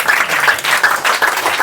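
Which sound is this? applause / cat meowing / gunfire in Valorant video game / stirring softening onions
applause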